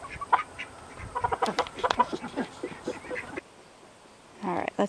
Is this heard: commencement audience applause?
no